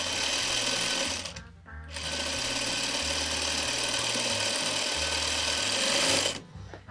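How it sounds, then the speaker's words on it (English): Sewing machine stitching pieces of a curved log cabin quilt block, a close, rapid mechanical chatter in two bursts separated by a short pause, with a fast rhythmic thump underneath and no talking. "which I can sew this."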